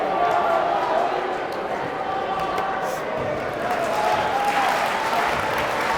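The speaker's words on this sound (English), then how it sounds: "Again, a clap in their hands." A crowd claps steadily in a large indoor arena at a high school boys' basketball playoff game, the applause blending with a general din and an announcer talking over it.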